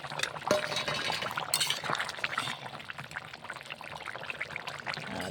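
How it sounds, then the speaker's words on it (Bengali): Fish pieces poured into a simmering pot of curry (snakehead fish curry), a wet splashing pour with light clinks, followed by continuous bubbling and stirring noise at close range, no talking. "এবার মাছগুলা দিয়ে এই দেখে মাছ ঢেলে দিলাম।"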